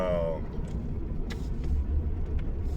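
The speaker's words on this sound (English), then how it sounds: "drive the Ford Crown Victoria. Man, the car still drives amazing, man." A Ford Crown Victoria drives along with a steady low engine and road rumble throughout, opening with a short tonal whine and a few faint clicks over the continuous drone.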